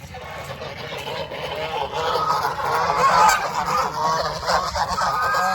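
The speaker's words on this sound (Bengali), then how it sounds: "আর এখানে পুকুরে এখানে কিছু হাঁস আছে" Ducks at a pond in Kaikhali, about two hours from Kolkata, let out a dense, continuous stream of honking calls that swells louder midway, heard close and outdoors.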